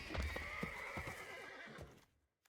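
The Ostrich Horse card in MTG Arena whinnies in a single loud, shrill neigh with a few hoof clops underneath, fading out abruptly into silence at the end.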